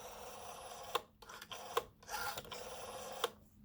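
Rotary dial of a 1967 Argentinian Standard Electric 201 telephone, freshly oiled with a tightened spring, turning and returning; quiet whirring with three sharp clicks spaced about a second apart against a faint hum.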